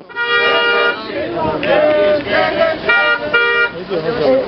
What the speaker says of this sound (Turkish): Hükmüne karşıysanız basın, bir kornaya basın.